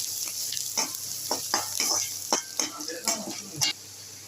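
Chopped vegetables with salt and turmeric sauté in a pan for aval upma, a soft continuous sizzle broken by repeated scraping and stirring strokes of a spoon against the pan, close by and alone.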